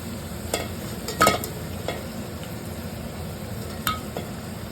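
Potato and garlic fry in oil in a pan, a continuous soft sizzle with occasional light scrapes and clicks of a stirring utensil against the metal, close by and without speech.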